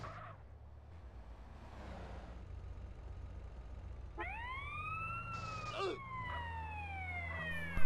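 An ambulance siren in GTA San Andreas wails over a low engine rumble during a paramedic mission, the rising and falling tones cutting in sharply partway through and repeating.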